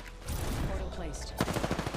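Gunfire in Apex Legends comes as a quick series of close, sharp shots, with a voice briefly audible underneath.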